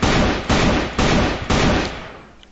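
An AK-47 rifle fires single shots: four loud, sharp reports about half a second apart, each with a short booming tail, and the last one fades out. No voices are heard.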